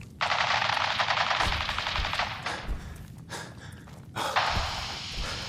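Video game firefight in Fallout 4 with a long burst of rapid automatic gunfire, a brief pause, scattered shots and rustling, then another sustained burst of fire, loud and close.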